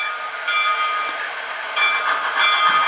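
A Roco model steam locomotive's digital sound plays in coast mode, a steady close hiss with faint tonal whistle-like overtones and no chuffing, heard alone.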